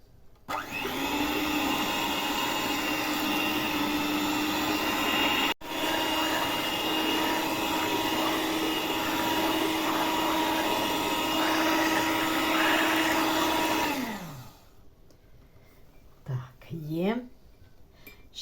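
An electric mixer whips boiled condensed milk, its loud steady motor whine running for about fourteen seconds before winding down, followed by a few light clinks and brief quiet sounds.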